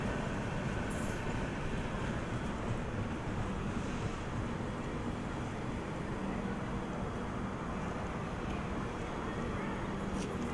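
The Sapt Kranti Express from Anand Vihar to Muzaffarpur runs past during a crossing at Sahibabad, a steady loud rumble of rolling wheels and carriages mixed with wind buffeting, with voices faint in the background.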